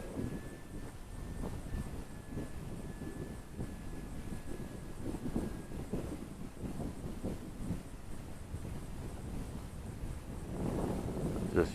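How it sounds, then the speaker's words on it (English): Wind blows outdoors during an RC plane test flight, a steady buffeting rumble across the microphone that gusts louder near the end, with faint talk underneath. "I'm getting some good wind out here today"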